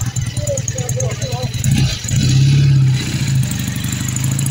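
A Triumph Bonneville motorcycle engine runs nearby with a steady low rumble that swells louder midway, mixed with other engine noise while people talk over it.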